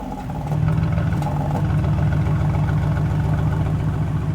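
Mercedes-AMG GT R engine switched into Sport Plus mode, a steady, loud mid-low engine drone that rises at about half a second and holds evenly to the end, with no talking.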